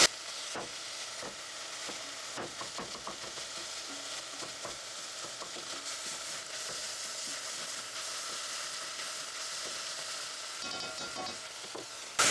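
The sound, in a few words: sauteing vegetables and garlic in a pan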